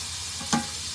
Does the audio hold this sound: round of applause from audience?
no